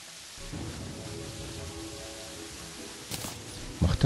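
In the video game Terraria, steady rain hisses as a soft, even wash, with a short brighter burst near the end and a few louder knocks closing it out.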